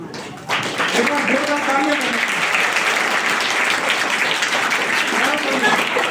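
An audience at a speech applauds steadily, a broad continuous wash of clapping that starts abruptly and holds loud throughout. Faint voice-like tones sit beneath it.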